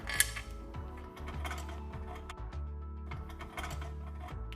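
Screws are driven back into the panel of a Ditting 807 Lab Sweet espresso grinder during a retrofit, a steady whirring, ratcheting tool drone with small metallic ticks and clicks, close up and moderately quiet, with no talk.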